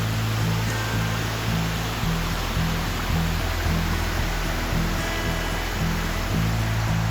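A river rushes steadily past creekside land in Ojochal, Costa Rica, a continuous broad roar of flowing water heard close and fairly loud with no talking.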